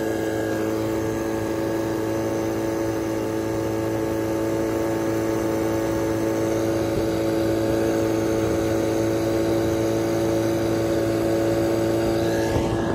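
Outboard engine on a 1998 Carolina Skiff J16 with a rebuilt carburetor, running steadily at low RPM with a constant droning hum and slight loading, close and continuous throughout.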